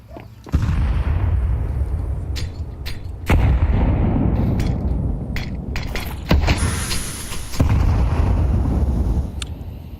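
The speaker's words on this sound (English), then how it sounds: "Nade not finding anything." Grenade blasts in a Counter-Strike match at IEM Cologne 2025: several loud, deep booms land a few seconds apart, each trailing into a rumbling roar, with sharp cracks of gunfire scattered in between.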